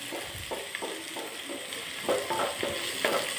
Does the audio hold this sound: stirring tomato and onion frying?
yes